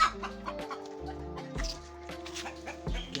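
Young roosters and hens cluck and call in short, irregular bursts nearby in a farmyard, with no talking.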